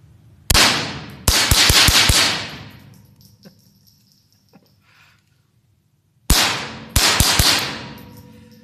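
Sharp, close gunshots from a Smith & Wesson 2206 small-caliber pistol, a first shot followed by a quick string of four or five, then after a quiet pause another single shot and a rapid burst of several more.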